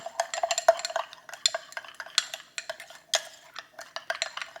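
A spoon clinks and scrapes rapidly against a container while stirring key lime yogurt sweetened with artificial sweetener, a close, busy run of small metallic taps with no one talking.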